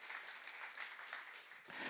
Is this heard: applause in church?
yes